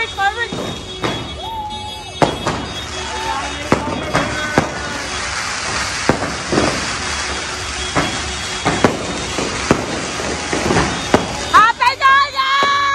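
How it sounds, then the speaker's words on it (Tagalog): New Year's fireworks and firecrackers explode in repeated sharp bangs and crackles at a home celebration, loud and irregular, with excited voices shouting throughout. "Ay, fireworks na tayo."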